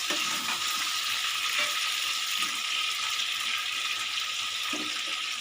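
Hilsa fish curry with taro and split green chillies frying in a pan, a steady broadband sizzle with a few soft scraping stirs, close and continuous with no one talking.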